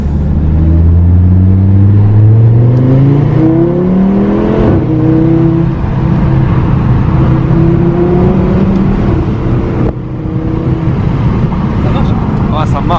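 Audi RS3 accelerating hard along a short straight, engine note climbing through several gear changes with a deep rumble, loud and close from inside the car, with voices talking over it.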